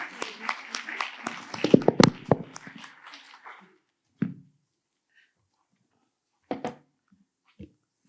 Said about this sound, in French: Et on peut applaudir Damien pour sa présentation.